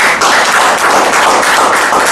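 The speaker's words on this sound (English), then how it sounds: "Let's give him another round of applause." A roomful of people at a Toastmasters meeting gives a dense, continuous round of clapping, close and loud for a couple of seconds.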